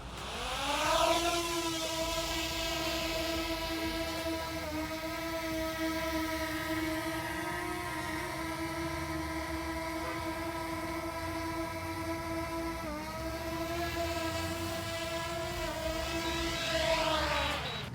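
A DJI Mini 2 drone hovering in flight gives off a steady, loud propeller whine with strong layered tonal harmonics, holding an even pitch for the whole stretch and dipping only briefly, with no talking.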